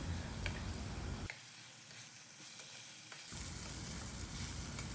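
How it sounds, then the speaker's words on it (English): Marinated quail frying in masala in a karhai sizzles loudly and steadily, with stirring scrapes and a short dip in the sizzle partway through, close up and with no talk. "We'll keep on stirring the quail in between so that the meat is fried well from all the sides"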